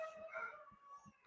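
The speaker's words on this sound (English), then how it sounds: "Apologies for the dogs howling in the background." Dogs howl in the background with long, wavering, overlapping cries, some low thumps underneath, and no talking.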